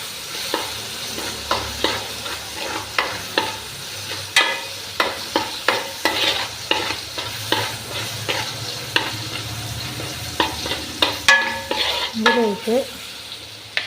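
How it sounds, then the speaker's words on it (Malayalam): Jackfruit sautés in a pan for jackfruit payasam, a spoon scraping and knocking against the pan in a steady rhythm of distinct strokes over a faint background sizzle, close and clear, without speech. "ഞാൻ ചക്ക ഏകദേശം ഒന്ന് വഴണ്ട് വരുന്നുണ്ട്"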